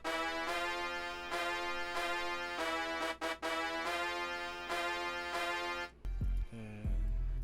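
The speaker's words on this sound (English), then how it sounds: "the next sound I added was a layered brass, also out of Venexi's 3K drum kit" Layered brass sample from Venexi's 3K drum kit plays a rhythmic, bright synth-brass phrase with sustained stabs and brief gaps. It stops near the end, where a short burst of other sound takes over.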